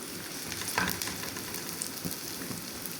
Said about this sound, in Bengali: এখানে আমি তেল মধ্যে পেঁয়াজ দিয়ে দিয়েছি,